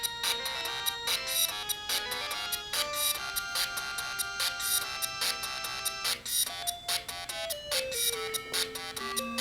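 Casio PT180 keyboard with unfiltered raw output: bright, buzzy electronic tones in quick stepping melodic notes, some staccato and some held, with no voices.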